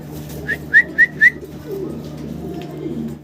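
A pair of big fancy Mundi pigeons gives three short, clear coo notes in quick succession, close by, then a soft low background follows.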